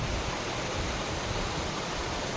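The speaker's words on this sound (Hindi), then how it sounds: "तो ये है क्रू वाटरफॉल।" Water falls at a small roadside waterfall near Chandigarh, giving a steady, even rushing hiss that stays soft and unbroken with no voices.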